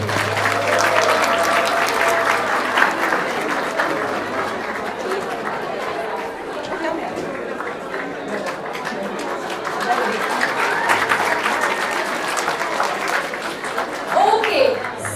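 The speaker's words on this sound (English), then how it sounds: "Let's give a round of applause to Mannsi." Sustained audience applause fills a youth dialogue event on building brands, a dense, steady wash of many hands clapping with crowd chatter mixed in, holding at a fairly even loudness throughout.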